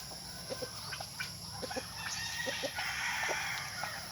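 Chickens on a provincial farm, along with ducks and turkeys, make scattered short clucks at a moderate distance over steady background noise. No voices are present.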